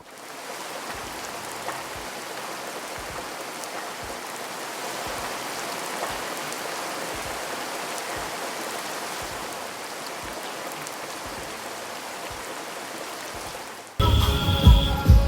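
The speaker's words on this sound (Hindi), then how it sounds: "तो आज काफ़ी ज़्यादा ही बारिश आ रखी थी" Heavy rain pours down in a dense, unbroken hiss for about fourteen seconds, close and even in loudness, before the sound cuts abruptly to something louder and different.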